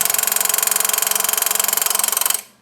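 A drag car engine held on a stutter box at about 6,500 RPM for launch, giving a loud, rapid, even machine-gun pulsing that runs steadily before cutting off abruptly.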